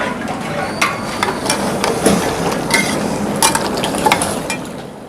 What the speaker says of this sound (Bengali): এখন হালিম পাকান শুরু করলাম। প্রথম ডাল পাকাইব, তারপর চাল, তারপর গম।